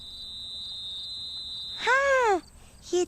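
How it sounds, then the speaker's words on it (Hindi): A watchman's whistle: a long steady high tone, then a sharper rising-and-falling blast, followed by a short final toot, loud and close with nothing else around it. "हाँ, ये तो चौकीदार की सीटी की आवाज है।"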